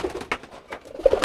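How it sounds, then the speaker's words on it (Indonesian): Burung kolong pigeons kept for sale at a home give soft, close, intermittent coos in short bursts, with no talk over them. "Nah, ini apa ini? Burung kolong."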